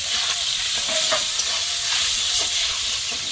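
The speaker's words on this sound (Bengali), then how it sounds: "মাছগুলো সব দিয়ে দিচ্ছি তেল ভালো মতো গরম হয়ে গেছে" Parshe fish sizzles and hisses in hot oil, a steady frying crackle with a few soft clinks of stirring, no voices.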